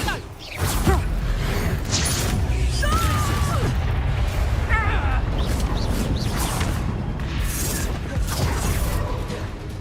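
Bombarda blasting spell going off during a Hogwarts Legacy duel, a dense roaring burst of booming, crashing and whooshing effects that stays loud throughout, with game voices mixed in.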